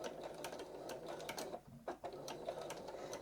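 A home sewing machine stitches homespun rag quilt fabric up to a notch and backstitches, giving a close, rapid mechanical clatter in short bursts with a brief pause midway.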